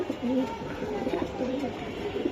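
Low, soft coos from racing pigeons roll through a murmuring background, with voices faintly present underneath.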